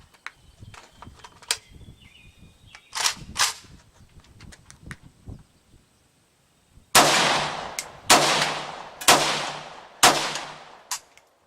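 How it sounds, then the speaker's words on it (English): A Century Bulgarian AK-74 rifle fires outdoors: a few lighter clicks and handling knocks at first, then a pause before four or five loud, sharp shots about a second apart, each with a quick decaying tail. "So let's go ahead and see if we can finish this mag off."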